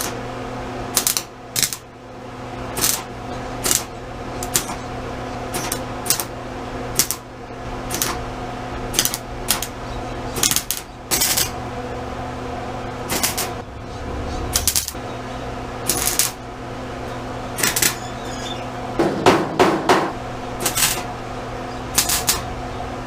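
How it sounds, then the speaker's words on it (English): Spot welding a bracket on a 1965 C10 pickup: a string of short, sharp crackling bursts, each lasting about a second, separated by pauses over a steady background hum, close and moderately loud. "It's just going to be a lot of spot welding."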